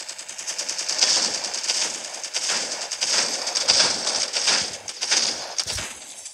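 Repeated gunfire in a mobile shooter video game, a pump shotgun among the weapons, with dense overlapping shots and bursts at an irregular rhythm over a steady, busy game background.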